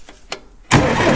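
A Farmall 350 diesel tractor engine cranks with two brief turning pulses, then catches with a sudden loud, rough roar that continues to the end, close by.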